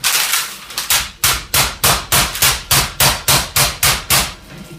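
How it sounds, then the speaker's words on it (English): A meat mallet pounds chicken breast flat between sheets of parchment, about fourteen sharp, loud, close thuds in a fast, steady rhythm. "I'm just going to pound it until it's quite flat with a mallet."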